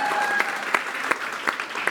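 A brief scatter of clapping from a small group, a few sharp claps spaced out over a moment alongside a faint tone.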